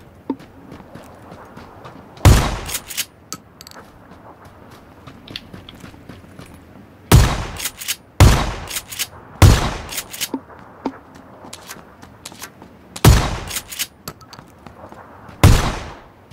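Sharp, loud single gunshots in PlayerUnknown's Battlegrounds, spaced irregularly with pairs and lone cracks against a quiet background, no talking.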